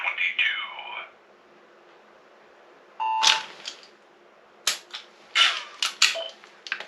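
Gunfire in a shooting video game: a handful of sharp, clipped shots in uneven succession, some landing close together, after a brief stretch of voice at the start.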